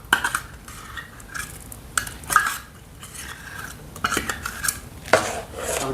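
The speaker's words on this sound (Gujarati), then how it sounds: "જો મિત્રો આપણે બરોબર હલાવી લઈશું આમાં" A metal spoon scraping and clinking against a pot as salt and ground red chilli are stirred into khatta dhokla batter, with irregular clatters and knocks close by.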